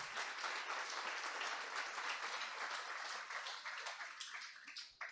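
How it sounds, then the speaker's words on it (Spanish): Church congregation applauding during a Sunday service, a steady, full roomful of clapping that holds throughout and thins near the end. "Démosle un aplauso al Señor por hombres como ese"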